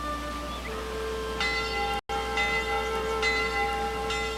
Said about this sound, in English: There's the school bell